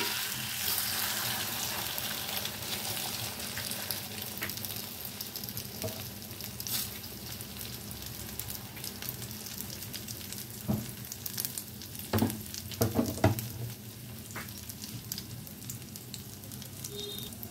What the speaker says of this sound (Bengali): এখন আমি পরোটাগুলো এই তেলের মধ্যে ফ্রাই করে নেব